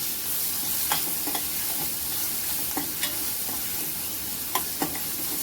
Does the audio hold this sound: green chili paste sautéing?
yes